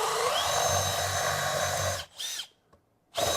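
Milwaukee M12 SubCompact brushless drill on speed 2 bores into 3/4-inch boards containing finish nails: a loud, steady motor whine with grinding for two seconds, then a brief lighter burst, a pause, and the drill starting again.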